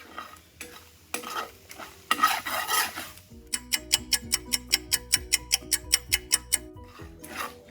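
Flour roux cooking in a pan and stirred, with a soft sizzle under rough scraping that turns into a steady run of regular, evenly spaced utensil strokes against the pan.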